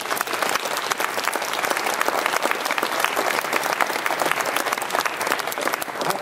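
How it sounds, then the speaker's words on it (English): Dense, sustained applause from a large audience fills a hall at a Las Vegas podcast awards ceremony, loud and continuous with many overlapping claps and no speech. "give Leo a round of applause"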